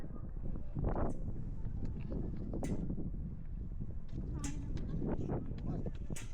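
Gusty wind roars steadily against the microphone on a high bridge in Sapa, Vietnam, with brief louder whooshes and voices faintly under it.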